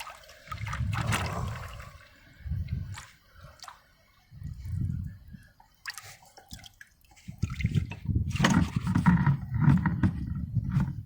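Transmission fluid sloshing and trickling as it drains from a Toyota Camry, with several wet gurgling surges close by and a longer splashing stretch toward the end.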